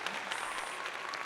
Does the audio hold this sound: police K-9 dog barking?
no